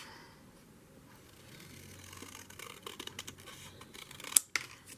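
Scissors cutting paper for a journal page, a soft rustling and scratchy snipping that builds over a few seconds to a couple of sharper closing snips at the end, close and quiet with no talking.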